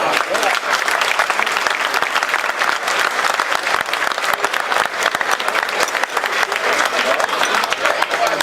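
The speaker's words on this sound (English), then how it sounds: "please give your hands a good round of applause for what you do today" Dinner audience giving a strong round of applause for law enforcement officers, loud continuous clapping from a large crowd with voices and cheers mixed underneath throughout.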